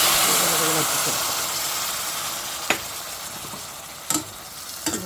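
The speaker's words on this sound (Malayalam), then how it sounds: "2 പ്രാവശ്യം ഇങ്ങനെ ഇളക്കിയെടുക്കുമ്പോൾ തന്നെ ആ വെള്ളം അപ്പോൾ തീ ഒന്ന് കൂട്ടി വെച്ച് കൊടുക്കാൻ പറ്റും" Boiled Chinese potatoes (koorka) frying in a pan for mezhukkupuratti, a steady close hiss and sizzle with a few sharp spoon knocks against the pan as they are stirred.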